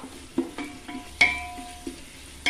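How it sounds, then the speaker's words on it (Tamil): Onions for mutton biryani fry toward golden with a soft, low sizzle, while spatula taps and pan clinks sound at irregular intervals. The cooking is close by and there is no talk. "இப்போ வெங்காயம் நல்லா பொன்னிறமாக வதங்க விடுவோம்"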